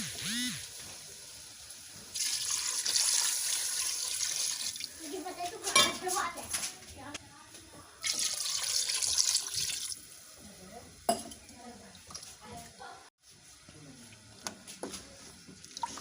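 Water poured into a cooking pot of chicken feet, heard as intermittent bursts of pouring and splashing among clinks of metal and glass in a kitchen, with a voice speaking between the pours.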